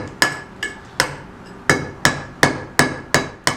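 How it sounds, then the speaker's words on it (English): Hammer blows on a flat chisel working stone while carving a monogram, eight sharp metallic strikes at a steady, slightly uneven rhythm, close and clear with no talking. "This is the flat chisel at its best."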